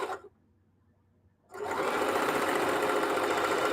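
A sewing machine stitches jelly roll fabric placemats, giving a short whir, a pause of near silence, then a steady, loud, continuous stitching drone until the end.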